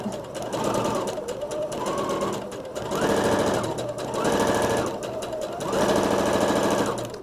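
A sewing machine runs a straight stitch at 0.5 length to gather fabric, buzzing in five short, even bursts separated by brief pauses, close and clear.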